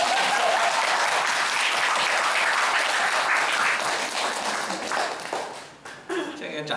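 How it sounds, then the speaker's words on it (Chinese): Sustained applause from the audience at a traditional fasting and health class in a city, loud and dense, thinning out toward the end as a few voices emerge. "掌声是给你们的啊"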